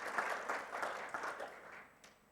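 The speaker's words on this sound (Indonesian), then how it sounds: "Berikan tepuk tangan, haleluya." A church congregation at a Sunday worship service claps together, a busy rolling patter of many hands that swells and then thins out toward the end, with no voices over it.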